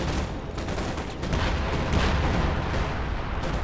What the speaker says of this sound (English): I called some artillery down